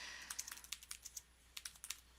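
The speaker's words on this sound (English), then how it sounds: "I can just start typing. And as soon as I hit enter, it goes right on to the next two" Typing on a computer keyboard, a quick run of light, close key clicks in an irregular rhythm with a short pause and a final firmer press like the enter key, quiet and without talk.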